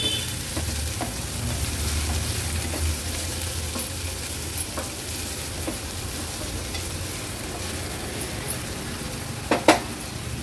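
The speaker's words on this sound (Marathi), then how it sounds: "लो फ्लेमवर कांदा व्यवस्थित आपल्याला शिजवून घ्यायचा आहे" Chopped onion frying on a low flame, a soft steady sizzle with occasional spoon stirs and a couple of sharp clinks against the pan near the end.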